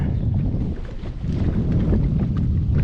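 Wind gusting across an open lake during bass fishing in about 22 feet of water, a steady loud rumbling buffet on the microphone with a constant broadband roar and no voices.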